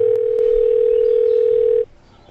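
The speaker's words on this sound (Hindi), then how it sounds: "कंप्यूटर जी एंजल प्रिया को फ़ोन किया जाए" A telephone line sounds as a call is placed in a comedy quiz-show spoof: a loud, steady electronic tone holds for nearly two seconds, then cuts off into quiet.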